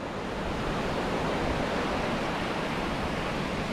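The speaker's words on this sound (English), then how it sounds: "As you can tell, it's getting windy." Wind gusts across a beach during surf fishing at New Smyrna Beach, a steady, loud broadband roar with surf mixed in, continuous and close with no voices.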